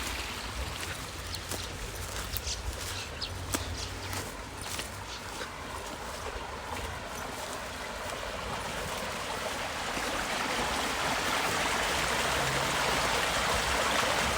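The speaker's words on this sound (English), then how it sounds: "it lets the water go in and flood the field." Steady rushing and gurgling water, a broad continuous wash that grows slightly louder toward the end, with no voices.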